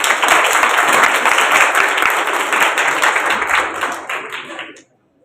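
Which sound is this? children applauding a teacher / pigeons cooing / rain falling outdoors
children applauding a teacher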